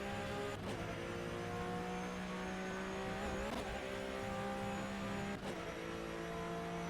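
Porsche Cup race car with a flat-six engine in the rFactor2 racing sim at Circuit TT Assen, droning steadily with a strong harmonic whine and brief pitch dips at gear shifts, loud and continuous with no talk.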